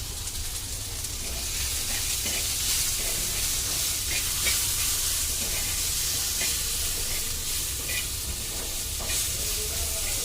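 Egg masala ingredients with salt, tomatoes and garlic frying in a pan give a loud, steady sizzle, with light stirring scrapes throughout and no talking.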